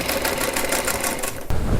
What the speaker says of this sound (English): Then I'm going to go to the sewing machine and just sew that seam on.